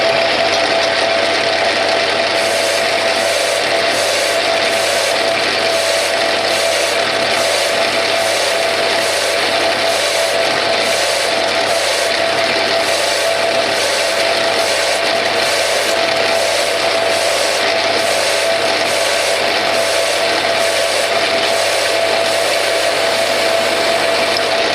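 A Bernardo P 600 G lathe turns grade 2 titanium, producing a loud, constant mechanical drone with a fast, regular ratcheting pulse throughout.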